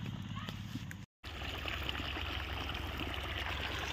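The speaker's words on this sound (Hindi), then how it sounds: "तो गाइस खेतों में हमने पानी लगा दिया है और आप देख सकते हैं पानी कैसे चल रहा है।" Irrigation water flows through a mustard farm field with a steady, close rushing and trickling wash that drops out for a moment, then resumes.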